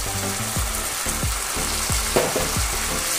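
Fried potatoes being stirred into a sizzling spice masala for a Bengali fish head curry, with a steady close frying hiss and a spoon scraping the pan in regular strokes, no voices.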